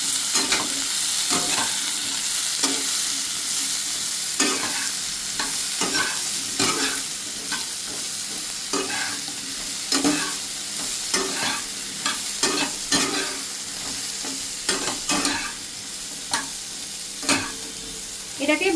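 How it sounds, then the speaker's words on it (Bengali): Diced ridge gourd and eggplant sizzle steadily in a pan of spice paste, with repeated scraping stirs of a spatula cutting through the continuous frying hiss at close range. "এটাকে ভালো করে ভাজতে হবে যতক্ষণ না বেগুন আর ঝিঙেটা খুব ভালো করে সিদ্ধ হয়ে যাচ্ছে"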